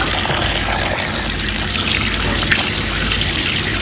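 Water runs and splashes steadily as freshly chopped saag greens are rinsed in a pot, a continuous close trickle and gush with no talking.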